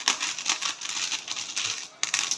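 Coins from a savings piggy bank clink and jingle continuously as they are dropped and counted by hand, a dense run of bright metallic chinks with a brief pause near the end.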